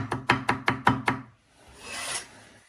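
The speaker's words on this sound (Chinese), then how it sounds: "再给它切成碎末，剁得越碎越好" Six sharp, evenly spaced knife chops strike a cutting board in quick succession as garlic is minced, followed by a brief scraping sweep.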